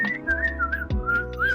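A person whistles a short, bright, wavering tune close up, imitating the old-school Mickey Mouse whistle from Steamboat Willie. It plays as several quick rising and falling notes with no talking.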